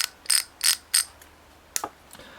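The clicker on a Seigler SG fishing reel ratchets in short, sharp bursts, three quick rasps in a row, then a pause and a couple more, close and crisp with no talking.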